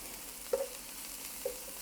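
Grated carrot and onion fry in a pan with a faint, steady sizzle, broken by two brief louder clinks or stirs about a second apart.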